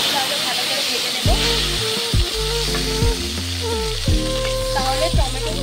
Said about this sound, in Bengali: তেলেই ভালো করে ভেজে নেব